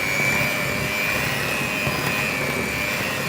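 An electric whisk beats eggs and plain flour into a chocolate raspberry cake batter, giving a steady, close, continuous motor whine with a high-pitched tone held for the whole stretch and no talking.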